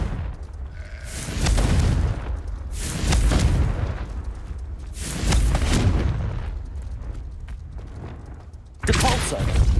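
Confringo fire spell blasts in Hogwarts Legacy, four loud booming bursts spaced about every two to three seconds, each swelling and fading before the next, the last cut off at the end.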